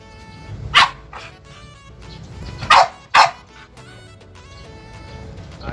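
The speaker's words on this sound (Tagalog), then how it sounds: "Ito pala yung aso ni Boss Marlon mga kalapatids." A dog barks three times, sharp and close, one bark followed later by two in quick succession, with quiet gaps between.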